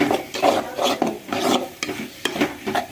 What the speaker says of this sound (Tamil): நல்லா கிண்டி விட்டு